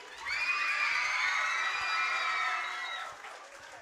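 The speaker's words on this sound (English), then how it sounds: "give them a round of applause and a big cheer" Supporters cheer and shout at a secondary school student-council presidential election debate, a bright burst of high-pitched young voices and whoops that swells, holds for a few seconds, then tapers off.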